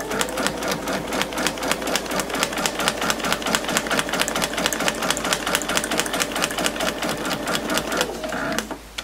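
A sewing machine stitches fabric pieces for a quilt block in a fast, steady run of mechanical needle taps that slows and stops near the end, close and loud, with no talk.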